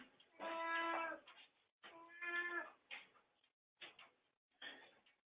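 A cat meows indoors: two long, clear meows followed by three shorter ones, close and distinct against a quiet room.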